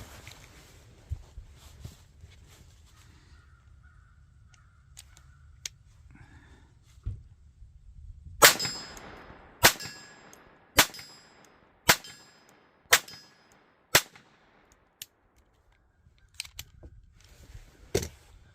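Pistol shots from a Taurus TX22 and Sig Sauer P322 ring off a half-scale steel silhouette target at 25 yards, a string of about ten sharp metallic clangs at irregular intervals, distant and otherwise quiet.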